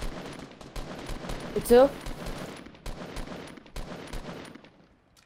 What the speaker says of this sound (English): He has a minigun, so shoot him with the AR.